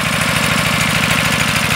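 A homemade generator engine running entirely on hydrogen idles steadily and loudly up close, with a fast even chugging rhythm and constant vibration throughout.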